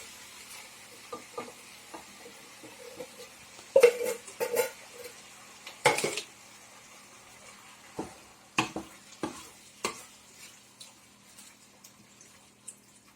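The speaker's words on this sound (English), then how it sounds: "We've got diced tomatoes here. They go straight in." Canned diced tomatoes go into a pot of chunky chili and are stirred, with sparse wet plops, scrapes and clinks of a spoon against the pot spread across a quiet background, close by and no voices.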